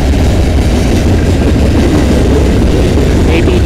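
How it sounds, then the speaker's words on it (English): Freight train led by a Norfolk Southern locomotive rolling past on the Dundas Subdivision in London, Ontario, a loud, steady, close rumble of wheels and cars with faint clatter and a brief squeal near the end. "I actually thought this train was going to have two Norfolk Southern units, but turns out I only saw one."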